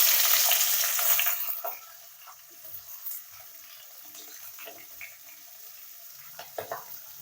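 Whole quartered onions drop into hot oil with bay leaf and dried chili, a loud bright sizzle at first that settles into a quieter steady fry with faint scattered pops and clicks.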